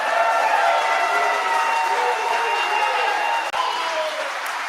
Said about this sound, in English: Can we practice what that applause is going to look like if somebody wins an award?